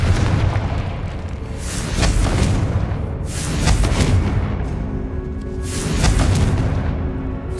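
Confringo fire spell blasts in Hogwarts Legacy, loud rumbling booms that swell and fade in repeated waves, roughly three big bursts over dense crackling fire noise, with no talk.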